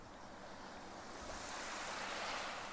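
Soft, distant ocean waves washing in a continuous hiss, gradually growing a little louder, with no other sounds.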